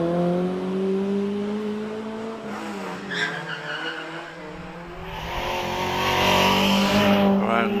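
A Renault Clio 182 races up the Prescott hillclimb course, its engine note rising and falling through gear changes with tyre squeal, loud and close throughout.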